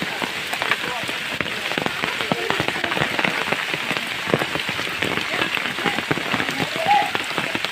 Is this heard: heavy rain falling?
yes